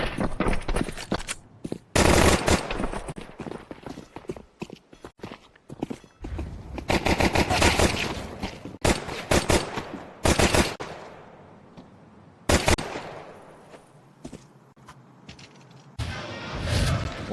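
Dual Beretta pistols fire in Counter-Strike 2 during a StarLadder Budapest Major 2025 match, with dense bursts of rapid gunshots, a few isolated loud cracks and footsteps between volleys.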